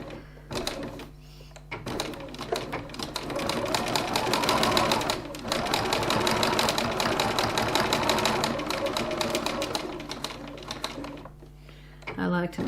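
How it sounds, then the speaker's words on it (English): Sewing machine top-stitching fabric card pockets, a steady close mechanical whir with rapid needle chatter running for roughly ten seconds, starting and stopping at each end with a few brief pauses. "Now we're going to go across to the sewing machine and stitch."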